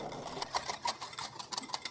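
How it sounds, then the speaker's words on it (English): A whisk stirs a thick, clumpy liquid mixture, giving quiet, quick, rhythmic tapping and scraping strokes close by. "I'm gonna give this whisk a try because it's very clumpy at the bottom."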